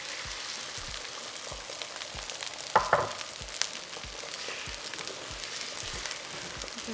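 Eggs frying in hot oil in a pan, crackling with a light, continuous sizzle and soft popping. A brief utensil clatter is heard midway, nearby and quiet, with no one talking.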